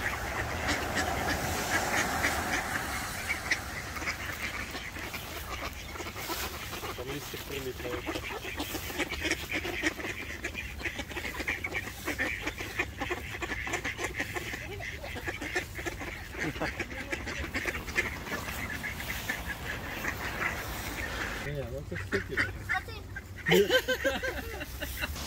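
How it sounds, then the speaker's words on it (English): A large flock of ducks being hand-fed in Riga keeps up a steady, busy chatter of quacks for the whole stretch, with people talking and laughing over it. "it was so amazing just to feed the ducks"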